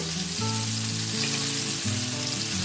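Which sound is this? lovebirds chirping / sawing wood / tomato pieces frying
tomato pieces frying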